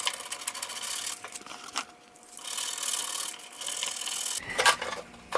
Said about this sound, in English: So now that everything is scuff sanded